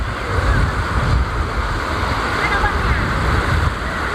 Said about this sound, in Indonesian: ombaknya nggak begitu besar seperti pantai selatan